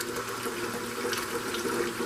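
Hot water runs from a kitchen tap into a canner, a faint, steady splashing rush that holds evenly, with no voices over it.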